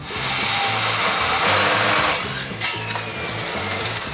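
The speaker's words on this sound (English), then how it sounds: "So we got a stock XJ axle, we're gonna chop it right here" A power tool cuts through a stock Jeep XJ axle, a loud continuous whining grind that holds steady, then eases off slightly with a brief clank near the end, close up and without speech.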